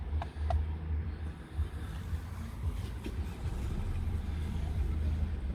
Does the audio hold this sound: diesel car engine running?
yes